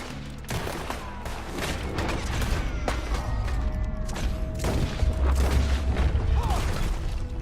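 A night shootout in Red Dead Redemption 2 fills with repeated gunshots and heavy booms in a steady, close exchange of fire.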